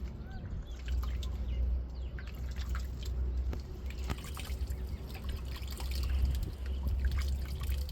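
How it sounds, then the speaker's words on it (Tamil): Soaked grated coconut being squeezed by hand to extract coconut milk, with faint trickling and dripping liquid over a low background rumble, no talking. "இப்போ நல்லா பிணைஞ்சு நம்ம பால் எடுத்துக்கிடுவோம்."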